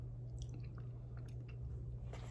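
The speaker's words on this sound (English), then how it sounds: "Crunching on them." Close chewing and crunching of small pieces of Trinidad Scorpion pepper, soft wet bites with a few crisp crunches, ending on a sharper bite, over a low steady hum.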